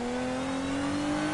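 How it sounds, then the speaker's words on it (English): Engine-swapped six-cylinder Camaro with a screw supercharger, in a PS4 racing game, holding a steady high whining drone with a rising tonal pitch, loud and continuous with no voices. "That's a screw supercharger under the bonnet."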